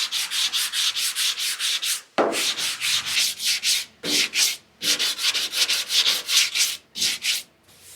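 Car body filler being sanded by hand on a Datsun 280Z, a loud, close, steady back-and-forth rasp in regular strokes with brief pauses between passes, no voices.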